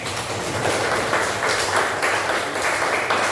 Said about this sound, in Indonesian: Oke, kasih tepuk tangan dulu untuk teman kita.